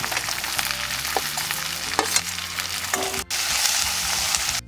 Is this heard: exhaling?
no